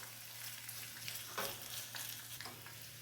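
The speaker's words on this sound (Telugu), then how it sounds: "ఈ పచ్చిమిరపకాయలు, ఎండుమిరపకాయలు, పప్పులు ఇవన్నీ బాగా వేగితే తినేటప్పుడు మంచిగా ఉంటుంది" Green chillies, dried chillies and lentils fry in hot oil with a steady, soft crackling sizzle and occasional stirring, close by and alone.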